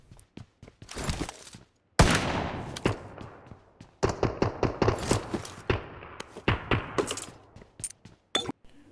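M4 rifle gunfire in PUBG Mobile, heard as repeated sharp bursts of close shots broken by short pauses, with a few dense volleys over about nine seconds and no talking.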